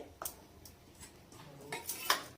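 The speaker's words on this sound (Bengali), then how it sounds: "এবার একটু একটু করে জল দিয়ে ব্যাটারটা বানিয়ে নেবো" Pumpkin-leaf fritter batter mixed with water in a bowl, a few quiet scattered clinks and scrapes of a utensil against the bowl, with a brighter ringing knock near the end, soft and close, no talking.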